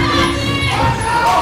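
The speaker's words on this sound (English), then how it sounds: "The crowd also getting really excited." A crowd at a Honor Fight League kickboxing bout roars and shouts in excitement, a loud sustained swell of voices with some higher cheers on top.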